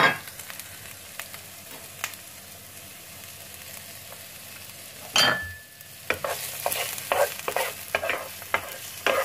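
Garlic and onion fry in a pan for squid adobo, a faint sizzle with scattered light stirring clicks that rises sharply around a loud splash of fresh ingredients, then a busier, louder crackle with more stirring.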